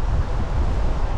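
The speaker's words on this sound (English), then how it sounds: "There's a wind a-brewing." Strong wind roars across the microphone on an exposed final climb of a 100 km ultra marathon, a loud continuous buffeting rumble with no letup.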